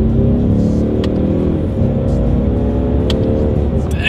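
Loud close engine drone of a 2020 Ford Mustang EcoBoost accelerating in manual mode, pitch climbing and dropping around quick paddle-shifted gear changes, with a few faint clicks.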